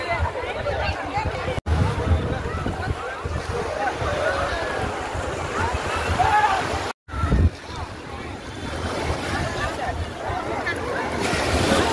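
Sea waves wash onto Agni Theertham beach at Rameswaram in a constant broad rush, heavy wind buffeting the microphone, with two brief dropouts breaking the noise.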